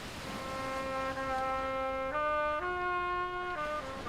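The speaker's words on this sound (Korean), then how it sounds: "그런데 이게 웬 색소폰 소리죠?" Saxophone playing a slow, sustained melody in the style of an old Korean ballad, drifting through a village on Seungbong Island at sunset, with long held notes stepping between pitches over faint outdoor background.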